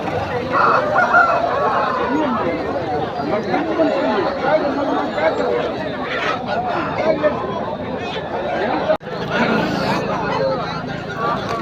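A Parla breed rooster crows amid a busy market at Peeleru, its call mixed into dense crowd chatter and clucking fowl, with people talking throughout.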